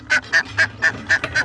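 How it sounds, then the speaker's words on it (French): Chickens in a backyard coop at feeding time, with six evenly spaced nasal calls close by in a quick, regular rhythm and no talk. "je nourris toujours les poules avant de leur ouvrir"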